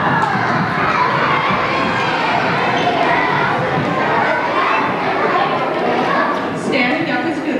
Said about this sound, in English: Let's give her a cheer.